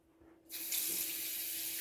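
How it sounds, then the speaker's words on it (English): Tap water runs into a kitchen pot for wonton ramen soup, starting abruptly after a quiet moment and then pouring steadily and loudly. "put some water in a pot"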